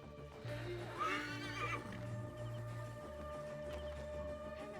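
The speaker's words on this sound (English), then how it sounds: "Let's put him on the horse" A horse whinnies loudly inside Assassin's Creed Origins, its rising, quavering neigh close up over a steady low game hum, with soft hoof clops trailing after.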